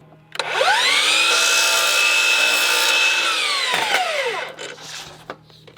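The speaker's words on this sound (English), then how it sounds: "I'm cutting some fascia boards" A saw cutting through wooden fascia boards on a house build, one loud, close, sustained whine lasting about four seconds that rises and then tapers off, followed by a few light knocks.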